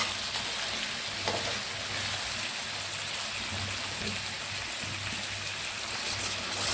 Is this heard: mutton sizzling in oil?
yes